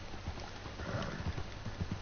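Horse hooves clip-clop in Red Dead Redemption 2, a steady run of soft, low thuds at a quick trotting rhythm with a faint background wash.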